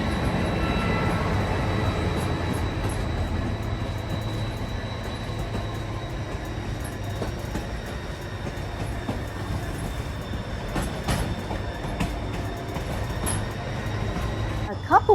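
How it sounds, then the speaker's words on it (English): A White Pass & Yukon Route train descending a mountain railway, passing nearby with a steady low rumble of cars and wheels, faint squeals and clanks near the end, under quiet voices. "here we met another train as it was coming down the mountain."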